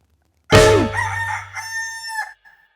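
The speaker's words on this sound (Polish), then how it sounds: "I na to wszystko jeszcze kogut." A rooster crows once, loud and close, with a long drawn-out cock-a-doodle-doo that trails off at the end.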